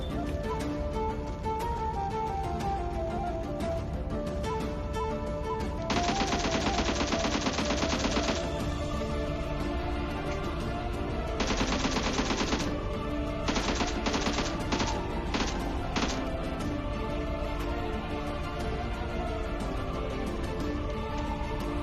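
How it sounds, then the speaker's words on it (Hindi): Automatic fire from an AKM rifle in the shooter game PUBG, with several rapid rattling bursts of shots cutting through a dense, continuous layer of game sound and music. "तो उस तरफ से मेरे को कुछ फायरिंग के साउंड आते हैं"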